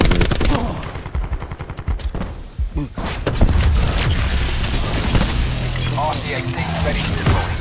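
Gunfire in Call of Duty Black Ops 4 deathmatch moshpit: rapid machine-gun bursts and loud close shots, a dense rattling volley early on giving way to heavier booms and continuing fire, with a voice speaking over part of it.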